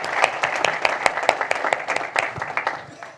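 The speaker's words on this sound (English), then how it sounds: "So a round of applause to Mike," A conference audience gives a short round of applause, a moderate burst of many hands clapping with distinct individual claps throughout, tapering off toward the end.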